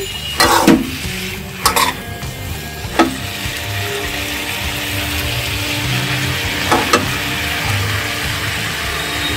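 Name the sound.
bitter gourd (karela) frying in a pan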